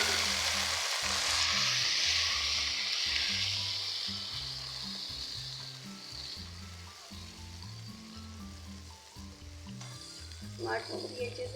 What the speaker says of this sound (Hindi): टमाटर को भी अच्छे से फ्राई कर लेती हूँ।